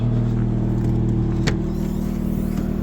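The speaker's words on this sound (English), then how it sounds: "we'll go at least go for a POV drive in it" Interior of a four-wheel-drive Honda Civic wagon driving on Hankook Winter i*Pike snow tires over ice and snow, a loud steady engine and road drone with one brief clunk midway.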